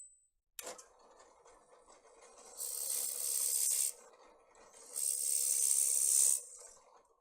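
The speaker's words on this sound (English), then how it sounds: "So I'm going to drill this out." A drill boring into olive wood for a pen whines in two loud high-pitched bursts of about a second each, separated by quieter workshop rustling and scraping.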